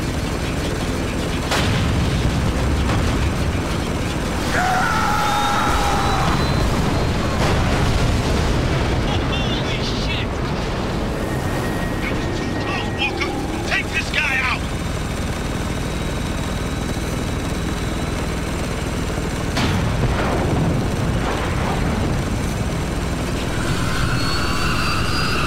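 Sidewinder missile attack in the video game Spec Ops: The Line, a loud, sustained roar of jet and engine noise with rumbling blasts and whooshes, under excited talking.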